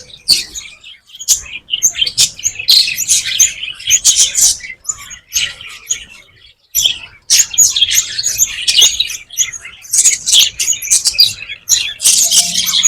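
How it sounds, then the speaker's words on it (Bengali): Lovebirds and other caged birds chirping in an aviary at an amusement park, a dense, busy chatter of high tweets and squawks in irregular bursts, close and fairly loud. "এখানে অনেক লাভবার্ড দেখা যায়"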